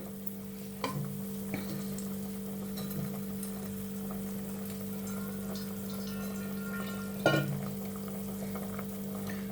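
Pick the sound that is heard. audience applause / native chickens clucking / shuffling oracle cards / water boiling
water boiling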